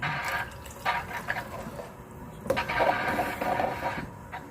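Water is poured into homemade tomato soup to thin it, giving soft splashing and trickling liquid sounds with faint drips and clinks at close range, fairly quiet overall.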